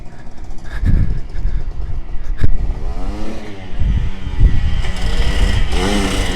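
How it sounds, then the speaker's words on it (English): A Yamaha YZ490 dirt bike approaches and rides past, its two-stroke engine rising to a loud, rasping pass that rises and fades in waves, with a brief wheelie rev amid outdoor background noise. "I don't hear the bike. Oh, here he comes!"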